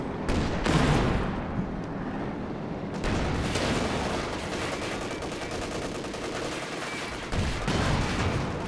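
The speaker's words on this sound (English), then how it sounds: "Bazooka joining in." Dense battlefield gunfire in the Company of Heroes 2 strategy game, with a bazooka joining in: continuous crackling rifle and machine-gun bursts, sharp blasts near the start and again toward the end, loud and sustained throughout.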